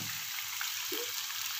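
A kilo of chicken goes into a pan of sautéed onions and starts frying, a faint, even hiss over a brief moment ending in a small sharp crackle.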